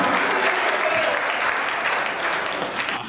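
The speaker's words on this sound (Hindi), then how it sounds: "ताली वाली बजाओ भाई साहब।" A crowd claps, a full and continuous wash of applause that holds steady throughout and fades slightly as it stops.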